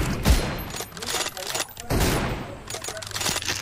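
Gunshots in the mobile game BGMI crackle through as loud, dense bursts of firing, close and repeated across the moment, with a heavy thump near the start.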